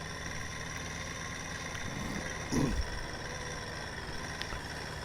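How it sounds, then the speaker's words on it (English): Steady tractor engine hum in Farming Simulator 19 as the tractor strains up a hill during a wheat harvest, a continuous mid-pitched drone with a brief louder bump partway through. "You can see there the tractor struggling up the hill a little."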